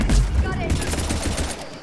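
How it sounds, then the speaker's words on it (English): A short, dense burst of heavy gunfire from the video game Mass Effect 3, loud and close, with booming low rumble and overlapping shots. "Another mutant is firing."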